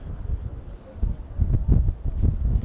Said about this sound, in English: we just almost got incapacitated by a very big gust of wind